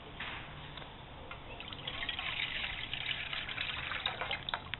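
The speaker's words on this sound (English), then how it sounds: "So you put your 500 milliliters of water in the pot." 500 milliliters of distilled water pours steadily into a pot, a soft continuous splashing that grows a little fuller over a few seconds.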